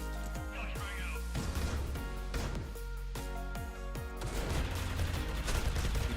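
A rapid burst of gunfire sprays in the tactical shooter C-OPS during a tournament match, a string of sharp cracking shots under excited commentary.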